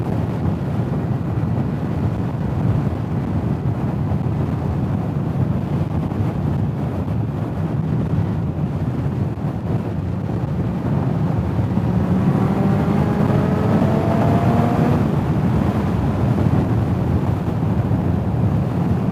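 A Kawasaki ZX6R 600 sport bike riding on the road, its engine note rising in pitch toward the end, steady and continuous beneath heavy wind rush over the microphone.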